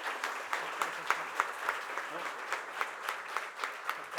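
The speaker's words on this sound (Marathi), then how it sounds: "उमेशसाठी एकदा जोरदार टाळ्या झाल्या पाहिजेत." Audience applause at a centenary celebration for Pt. Ram Marathe at Sahayog Mandir, Thane: a hall full of people clapping in a brisk, fairly even rhythm, moderately close and sustained for several seconds.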